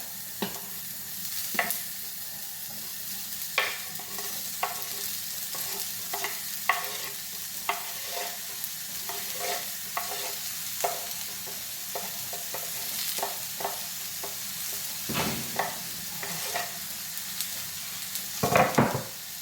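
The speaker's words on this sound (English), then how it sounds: "And I'm just gonna let this saute off for a bit." Cabbage and butter beans sautéing in a dry pan with no oil, cooked Jamaican style: a steady soft sizzle runs throughout, broken by repeated scraping and stirring strokes of a utensil, with a louder clatter near the end.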